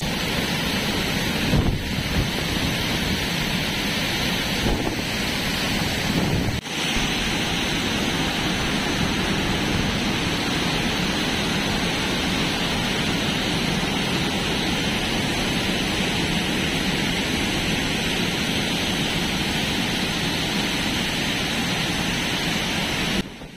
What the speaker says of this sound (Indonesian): Melihat derasnya arus air di kawasan air terjun Bulayan ini